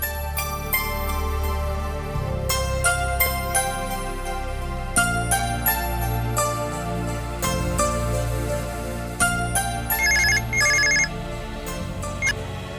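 A telephone rings continuously after a number is dialed, with bright repeated electronic tones forming a steady, melodic ringtone pattern and no talking over it.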